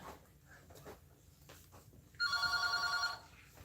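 A telephone rings once in a single electronic burst of a little under a second, clear and fairly close over a quiet room, with nobody talking.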